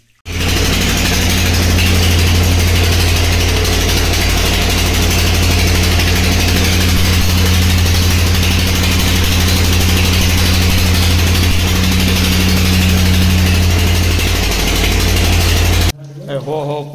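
A borewell drilling machine's engine runs at a loud, constant drone for about fifteen seconds, then cuts off abruptly.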